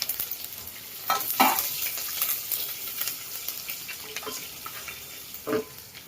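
Curry leaves and green chillies drop into hot oil with popped mustard seeds for a khaman tempering, giving a loud burst of sizzling and frying that settles into a steady crackle with occasional stirring.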